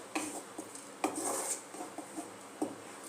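Tomato chutney sauce being mixed in a pan, heard as quiet, close spoon clinks and scrapes against metal at irregular intervals over a soft background.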